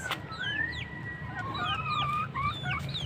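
Several chickens cluck and chatter continuously with rising and falling calls, fairly close, over a steady outdoor background.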